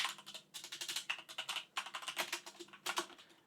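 Fast typing on a computer keyboard, a steady run of close, crisp key clicks in short bursts with brief pauses, fairly quiet and with no talking.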